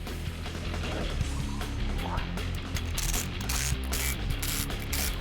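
Ratchet tightening a fastener during a custom Suburban-based H1 Hummer-style off-road tow rig build, a steady busy mechanical clicking over dense workshop noise, close and continuous throughout.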